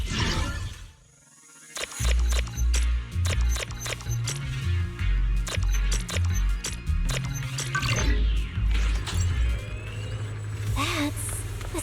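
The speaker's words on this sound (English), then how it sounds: "That's the sound of machinery." Machinery runs in Zenless Zone Zero amid a dense game soundscape: low rumbling pulsing bass beneath clattering metallic hits and clicks, loud and continuous, with speech passing over parts of it.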